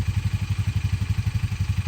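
A motorcycle engine ticks over in a village, its close, steady, rapid thumping running alone without pause.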